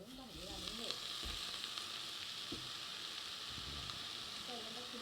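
Vegetables frying in hot oil in a kadhai for Rajagiri bhaji, a steady close sizzle running throughout, with faint voices at moments.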